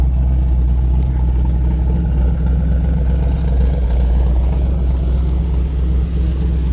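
A 1984 Chevy K5 Blazer engine idles with a deep, steady low rumble, close and continuous throughout with no speech over it.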